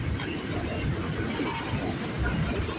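A CN or VIA train rolls steadily past Brantford VIA station, a continuous loud low rumble of wheels and cars with no break and no voices.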